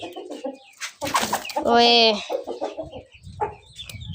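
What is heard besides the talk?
chickens clucking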